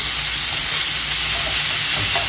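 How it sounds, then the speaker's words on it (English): Ground meat frying in a pan while a spatula breaks it up, giving a steady, dense, loud sizzle with faint scraping underneath and no talking. "Just keep moving it around and keep breaking it up, cutting through it with something like a spatula."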